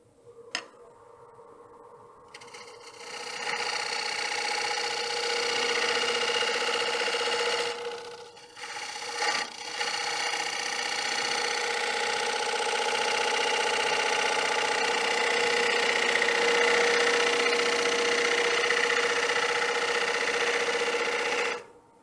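A wood lathe turns a platter as a 3/8 gouge cuts, giving a continuous motor whine and a steady hiss from the cutting. There is a brief dip partway through, the sound is close and fairly loud, and no one speaks.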